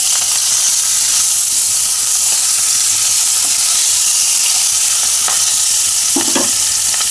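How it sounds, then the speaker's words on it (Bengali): Bhetki fish head frying in hot oil in a wok, a loud continuous sizzling hiss throughout, with a few faint clinks and stirring scrapes near the end and no voices. "এবার আমি মাছের মাথাটা ছেড়ে দিলাম। মাছের মাথাটা ভালো করে একটু ভেজে নেব।"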